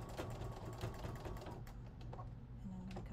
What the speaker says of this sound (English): I'm just going to sew over the top of this elastic right over the seam I just made on the other side